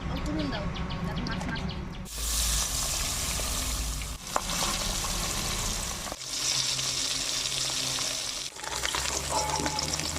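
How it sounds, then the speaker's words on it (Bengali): Fish coated with chilli powder and turmeric fries in oil in a wok, a continuous close sizzle broken by a few abrupt shifts, with faint bird calls in the background. "মাছ ভাজার জন্য কড়াইতে তেল দিলাম।"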